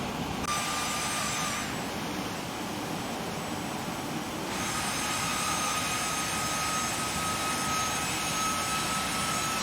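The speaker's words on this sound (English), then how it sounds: "they got all kind of aircraft taking off" Aircraft taking off at an airport in the X-Plane 11 flight simulator give a continuous jet engine roar with high whining tones, steady and moderately loud throughout.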